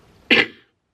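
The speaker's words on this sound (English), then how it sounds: "I feel like I'm gonna cough." A single short cough from a woman sits close and alone, one sharp burst that fades quickly into quiet.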